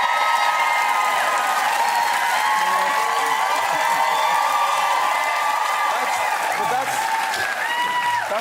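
A large concert audience applauds and cheers steadily throughout, a dense wash of clapping with whoops and shouts rising over it.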